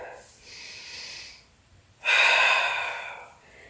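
Deep, audible breaths during a beginner mat Pilates exercise: a soft, drawn-out breath, then a pause, then a louder, forceful exhale close to the microphone, with no words spoken.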